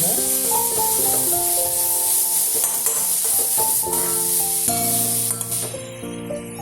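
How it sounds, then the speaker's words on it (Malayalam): Crushed ginger and garlic fry in a pan with a loud, continuous sizzle and occasional stirring scrapes, heard beneath steady background music that fades near the end. "ഇനി അതിലേക്ക് ഇഞ്ചിയും വെളുത്തുള്ളി ഞാൻ കാണിച്ചിരുന്നു, അതും കൂടി ഇടുകയാണ്. ചതച്ചു നന്നായിട്ട് മൂക്കണം."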